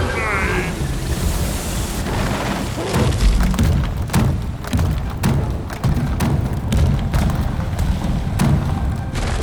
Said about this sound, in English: Neurotoxin grenade!